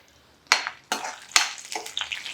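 Mustard seeds, cumin, dried red chillies and garlic hit hot oil for a tempering poured over pepper rasam, letting out several sharp bursts of crackling sizzle that trail off between hits.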